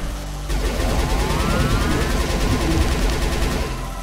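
Gunfire in the game Capsized, a dense, loud burst of rapid shots running continuously with sweeping whistling tones, steady throughout with no talking.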